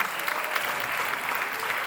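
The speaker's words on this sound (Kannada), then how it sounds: "ಈ ಪುಟಾಣಿಗಳ ಪ್ರಬುದ್ಧ ನಟನೆಗಾಗಿ ಒಂದು ಜೋರಾದ ಚಪ್ಪಾಳೆ ಬರಲಿ." An audience at a children's play during a spring festival breaks into steady, dense applause, many hands clapping continuously at a fair distance with a faint crowd murmur underneath.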